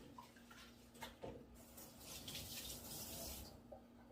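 A kitchen tap runs steadily while hands are rinsed during pie-making, a close, continuous broadband water rush with a few splashy bursts, no talking.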